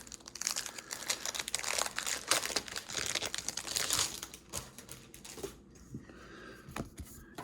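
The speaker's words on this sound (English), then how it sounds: "The next thing we have that's in a plastic bag, and I'm gonna get her open." A plastic bag holding Pax Viking board game pieces is crinkled and torn open by hand, a busy run of close crackling and rustling that thins into a few sparse handling sounds near the end.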